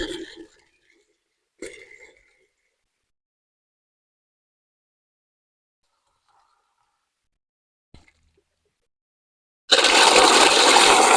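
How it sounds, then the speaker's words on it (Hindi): Water pouring into concentrated liquid fertilizer to dilute it, a loud steady gush arriving near the end after long quiet, with a few brief sounds earlier. "इसमें मैं पानी मिला रहा हूँ।"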